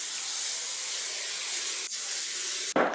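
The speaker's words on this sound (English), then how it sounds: "And now it's time for hairspray." Hairspray hisses from a can in a long, steady, close spray, then after a short break a second quick, louder burst.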